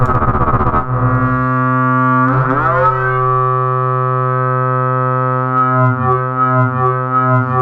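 Xaoc Devices Koszalin synth module making a sustained harmonic ramp-wave drone with phase modulation, loud and steady; a pitch sweep near the start settles into a buzzy, tonal hum.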